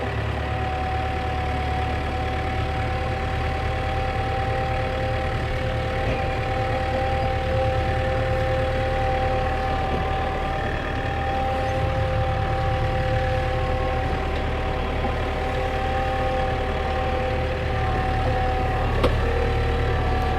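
A tractor engine drives a Zago shredder in low gear with a steady, loud, unbroken drone and no voices.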